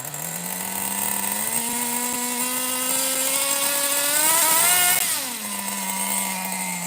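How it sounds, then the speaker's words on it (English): Small nitro RC engine from a Megatech Nitro Razor under restoration, with half its cooling fins missing, buzzing steadily at high pitch, revving up near the end with a shift, then dropping back to a lower idle whine. "this ain't the most powerful engine, but, you know, with half the fins missing, it's actually running quite all right"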